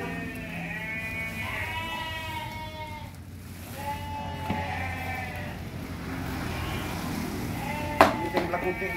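Sheep on a breeding farm bleat repeatedly, several overlapping calls near and mid-distance, with farm background noise and a sharp knock toward the end.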